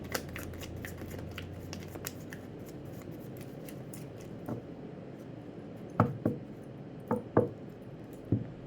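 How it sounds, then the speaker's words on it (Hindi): Tarot cards being shuffled by hand: soft riffling and rustling for several seconds, then a few sharper slaps and taps near the end, close and fairly quiet, with no voice. "चलिए एक बार और शफल कर लेती हूँ, अगर कार्ड्स कुछ बताना चाहते हैं तो।"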